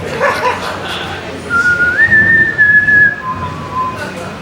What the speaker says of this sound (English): they whistle the Hunger Games theme at me.